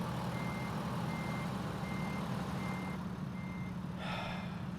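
A vehicle backing into a spot gives off a steady series of five evenly spaced reversing beeps over a constant low engine rumble, followed by a short brakes-like hiss near the end.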